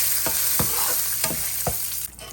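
Chana dal sizzles steadily in a hot pan while a spoon stirs it, with four or five soft scraping strokes over the constant close frying hiss.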